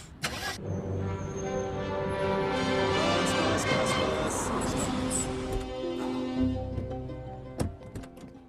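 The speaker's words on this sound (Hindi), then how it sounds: "चल बेटा गाड़ी चला" A car engine cranks and catches, then settles into a steady running rumble for several seconds before a few clunks near the end; faint voices sit beneath it.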